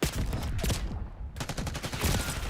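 Black Ops 6 gunshots ring out in rapid bursts, a short cluster of shots, a brief pause, then a longer steady string of loud, close, evenly spaced rounds.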